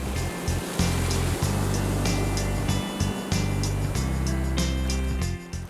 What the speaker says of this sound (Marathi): वाळूवर चालत समुद्राच्या लाटा ऐकण्याचा अनुभव काही वेगळाच असतो